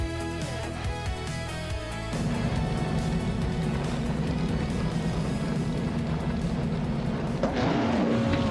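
Vintage race cars, among them a classic 1958 Maserati, launch at the start of a race at Spa, engines rising from idle to a loud, sustained roar as the field accelerates. A sharper surge arrives near the end.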